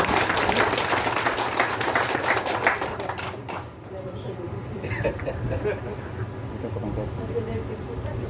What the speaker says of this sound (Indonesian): Mari kita tepuk tangan untuk Pak Bupati dan kita semua.